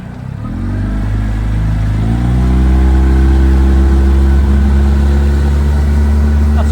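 Small boat driven by a 9.8 Tohatsu outboard engine at about half throttle; a loud, steady droning motor hum that rises in pitch over the first two seconds and then holds, close and continuous.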